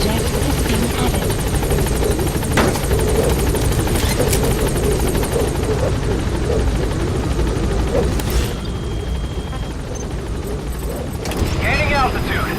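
A helicopter in the video game Metal Gear Solid V, its loud steady rotor drone running throughout the scene with radio voices and game sounds layered over it.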